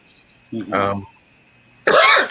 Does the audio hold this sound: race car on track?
no